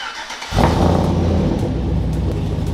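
A Chevy Bel Air engine kicks in after half a second of near silence, then a steady, loud rumble as it idles and revs slightly.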